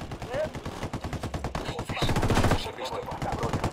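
Rapid bursts of automatic gunfire from the Ghost Recon video game, loud and close, with shots dense and continuous across the clip and a heavier volley near the middle.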